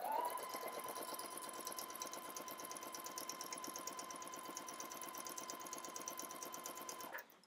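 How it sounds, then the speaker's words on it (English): A sewing machine runs in one steady pass, a rapid even stitching rattle with a whining motor hum that stops abruptly near the end, sewing a skirt seam at 5/8 inch with a backstitch. "I'm going to go to the machine, and I'm going to sew this in one pass at 5/8 of an inch"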